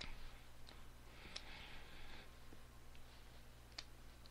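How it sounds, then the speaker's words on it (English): Faint, sparse keyboard clicks tap along at an uneven pace in a quiet room under a steady low hum. "quit typing, Christy."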